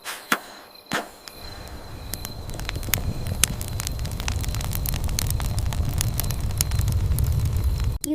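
A fire crackles steadily at close range, with sharp pops and snaps scattered over a growing roar; two louder knocks sound near the start.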